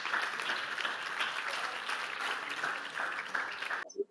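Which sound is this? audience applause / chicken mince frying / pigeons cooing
audience applause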